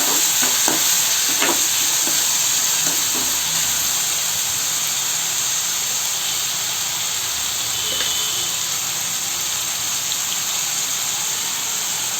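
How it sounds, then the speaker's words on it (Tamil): Masala sautéing for brinjal kara kuzhambu, with steady sizzling and hiss in a hot pan and a few scraping stirs early on, close and continuous with no talk. "ஒரு நிமிஷம் போல் இது நல்லா வதங்கட்டும்"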